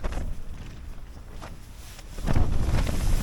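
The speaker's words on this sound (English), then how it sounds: "as the wind comes round and comes in" Wind gusts buffet the microphone in a steady rushing roar on the Yorkshire Moors at the Wainstones, swelling noticeably louder near the end.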